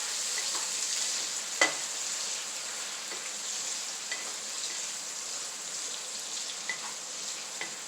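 Apples and bacon sizzle quietly in a hot pan as they are stirred, giving a soft, steady frying hiss broken by a few faint scrapes and light clicks of the utensil against the pan.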